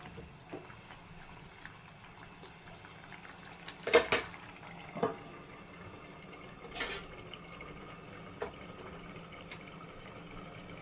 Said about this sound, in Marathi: थोडंसं मी मीठ टाकून घेते थोडंसं हलवून घेते